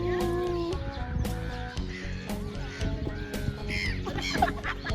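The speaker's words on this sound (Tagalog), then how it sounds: "Ingay ng mga ibon" Several crows caw in overlapping calls, loud and nearby, amid a noisy chorus of other birds, in Oslo, Norway.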